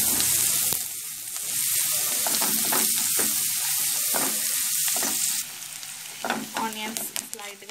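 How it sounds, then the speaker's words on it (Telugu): Cinnamon, cloves and onions frying lightly in a pan for paneer butter masala, a loud constant sizzle with repeated scraping stirs that eases into softer crackling toward the end. "ఇవి లైట్గా ఫ్రై అయిన తర్వాత ఆనియన్స్ వేసుకొని"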